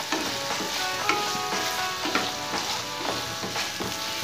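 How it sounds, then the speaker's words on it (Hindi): Onion and tomato sauté in a pan for a bottle gourd curry, a dense continuous sizzle with repeated scraping stirs every half second or so, close and fairly loud. "और अब सभी चीजों को हम हल्का सॉफ्ट होने तक भूनेंगे।"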